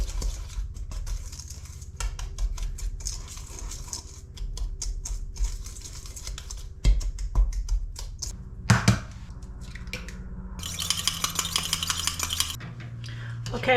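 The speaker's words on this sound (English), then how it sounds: "a beaten egg. So I've just got to beat that" Whisking an egg in a bowl for air-fryer ginger biscuits, a rapid clatter of utensil against the bowl, fairly close, in bursts with short pauses and a few louder knocks.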